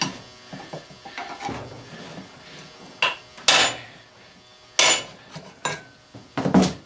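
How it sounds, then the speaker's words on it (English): Hammer whacks knocking a part off an old lawnmower motor being torn down for scrap cast aluminum: several sharp, loud metallic strikes spaced irregularly, with lighter clinks and handling clatter between them. "A couple whacks and off it comes."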